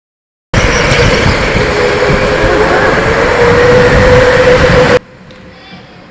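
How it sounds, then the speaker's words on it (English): Electric indoor rental go-kart at a K1 Speed race, its motor whine droning loud and close for several seconds as the battery fails and power fades, then cutting off abruptly into quiet. "So right here, you can hear where the cart kind of dies."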